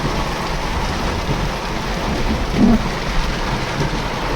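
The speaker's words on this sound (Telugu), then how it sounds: "నీళ్ళు మొత్తం ఫుల్ వర్షం ఫుల్ వాన" Heavy rain pours down in a dense, unbroken roar, loud and close, with one brief low rumble partway through.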